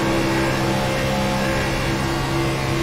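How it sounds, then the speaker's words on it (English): Race car engine in the iRacing sim at Las Vegas, a steady loud droning roar with a constant pitch, held at throttle throughout with no talk. "Here's the throttle control inside Chris Worrell's car."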